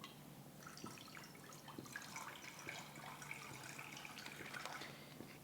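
Water runs steadily from a tap or jug into a cooking pot of vegetables set to boil, a continuous splashing trickle at moderate level with no talk.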